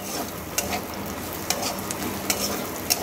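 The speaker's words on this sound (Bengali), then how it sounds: "এবার এর মধ্যে দিয়ে দিচ্ছি ভেজে রাখা বড়িগুলোকে দিয়ে একটু নাড়িয়ে চাড়িয়ে নেব।" Fried bori (lentil dumplings) and bottle gourd peels are stirred in a hot pan, with a steady sizzle beneath and a few sharp spatula scrapes and clacks at irregular intervals, close and alone.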